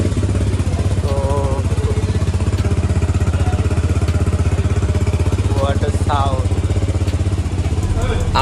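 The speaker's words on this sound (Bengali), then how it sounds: "স্টার্ট দেওয়ার সাথে সাথে যখন এক্সজস্টের সাউন্ডটা শুনি" A GPX Demon 250cc motorcycle idles with a steady, close engine and exhaust rumble, a continuous low throb that runs throughout while people talk over it.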